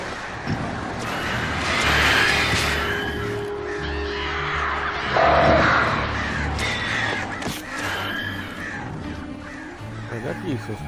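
Crows caw in the Alan Wake video game, repeated harsh calls over layered game ambience and music, with someone talking over them.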